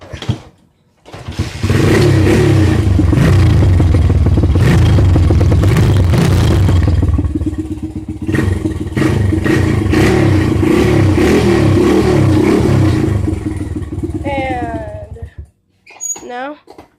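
A dirt bike engine with baffles fitted in its exhaust starts up and revs loudly and close by for about fourteen seconds, with rising and falling throttle blips, before cutting off.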